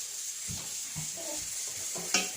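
A spoon gently stirs hot couscous semolina with butter in a pot, making a few soft, rhythmic scraping strokes that are faint and close against a quiet background hiss.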